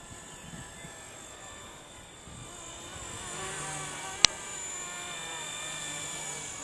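A Kiwi Craig RC MicroHeli S300C, a small semi-scale electric helicopter with a three-blade rotor kit, flies with a thin whirring whine that climbs in pitch, joined by a single sharp click partway through.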